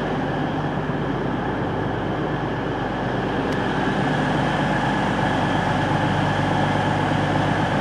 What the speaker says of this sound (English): So here's a quick look at Corby station.